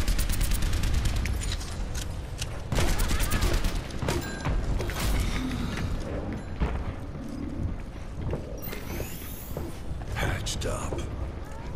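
Automated turret in the Overwatch video game firing rapid bursts of gunfire amid chaotic battle noise, explosions and dense in-game effects, with voices talking over the action throughout.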